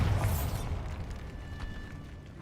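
Bombarda blasting spell fired in the video game Hogwarts Legacy, a loud booming explosion with a burst at the start that decays into a rumbling, crackling tail alone.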